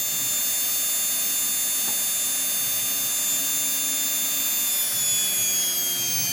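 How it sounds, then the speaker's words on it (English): A Whirlpool washing machine motor with an F06 error runs at high speed, a loud, steady whine with rising and falling tonal lines as it speeds up and slows down, heard alone and close. "Now it's taking high RPM and reducing and increasing."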